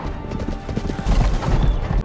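Horse hooves clip-clop in a steady, busy rhythm, close and fairly loud, with heavier thuds in the second half of a dramatic film recap scene about a man riding off on horseback in search of masked apes.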